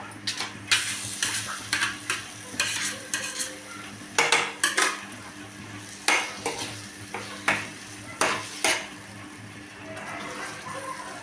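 A spoon scrapes and stirs eggplant in a pan for bharit, repeated close clinks and scrapes at an irregular rhythm over a soft sizzle.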